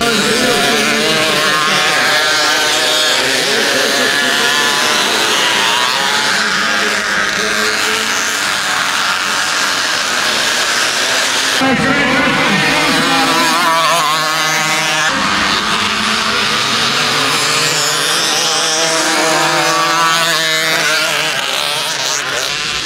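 Racing mopeds scream loudly and continuously at the Zelta mopēds race in Grobiņa, engines buzzing and rising in pitch as they pass close by, with no talk over them.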